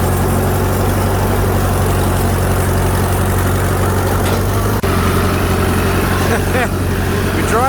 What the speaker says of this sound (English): We're driving the tractor.